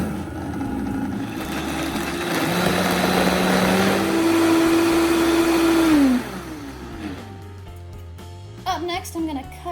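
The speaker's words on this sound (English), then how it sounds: "I'm gonna go ahead and toss my tomatoes into the blender" A blender purees tomatoes with canned tomato paste, its motor climbing to a steady whine, holding and then spinning down, with a voice speaking briefly at the end.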